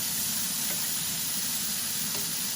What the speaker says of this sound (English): we want to get a nice little sear on our steak